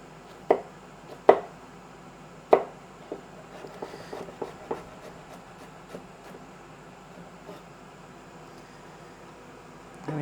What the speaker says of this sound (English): I peeled them, and I'm now quickly gonna chop them.